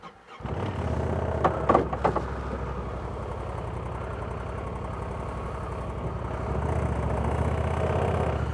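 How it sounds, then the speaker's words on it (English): A Honda Talon side-by-side's engine starts up and runs steadily in low gear, a continuous close drone that swells slightly as it pulls forward, with a few brief clunks early on. "we're jumping in the Honda Talon, and we're gonna do the exact same thing. So we're gonna fire this up, drop it into low gear"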